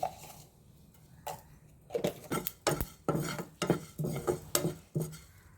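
A metal spoon scrapes and clatters in a pan as lentils roast in oil, with irregular close knocks speeding up into a busy stirring rhythm over a faint sizzle.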